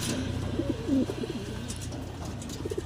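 Pigeons coo close by in soft, throaty repeated calls over a low steady background hum, with no talk.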